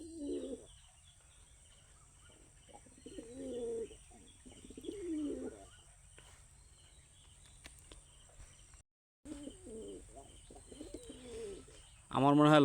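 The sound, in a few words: lakkha fantail pigeons cooing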